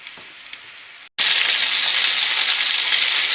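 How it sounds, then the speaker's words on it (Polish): Chicken breast roulades, seam side down, sear in a hot pan with a steady, loud broadband sizzle and crackle that jumps up sharply after a brief silent gap and then holds evenly, with no voices. "będę je obsmażała na rumiano ze wszystkich stron."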